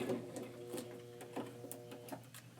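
A sewing machine stitches a quarter-inch seam on a zippered pouch in short, soft bursts of rapid mechanical rattling, quiet and close.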